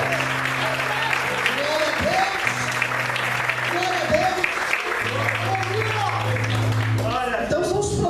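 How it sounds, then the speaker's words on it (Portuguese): A church congregation applauds during a sermon, steady clapping and cheering throughout, under a preacher's amplified voice and sustained musical keyboard tones. "Você pode aplaudir e exaltar a Deus por isso."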